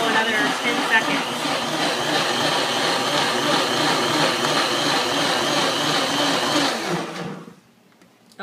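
A kitchen blender churns cream into butter with a loud, steady motor whir that runs without a break for about seven seconds, then cuts off into near silence.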